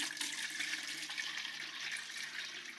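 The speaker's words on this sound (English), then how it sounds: "and then you're just going to add water" Water runs steadily into a container holding a little soap, a continuous close splashing hiss at moderate loudness with no talk.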